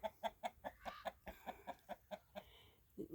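Young hens cluck in a steady, repeated rhythm, close by, while being moved in with older hens, with a short higher squawk partway through and no talking.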